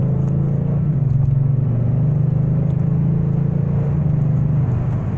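Kia Stinger GT engine running in sport mode, a loud, close, steady low rumble with slight rises in pitch, heard alone without voices.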